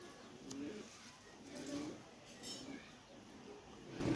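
Pakistani pigeons, including teddy and golden varieties, coo softly in a few low, rounded calls over a quiet, steady background.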